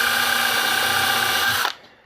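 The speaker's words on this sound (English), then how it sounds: "going to countersink these holes. I'm just going to pilot them." A power drill bores pilot holes into a wooden board ahead of 3-inch grabber screws, whining steadily and loudly for over a second and a half before cutting off abruptly.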